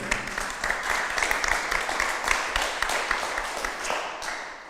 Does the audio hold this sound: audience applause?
yes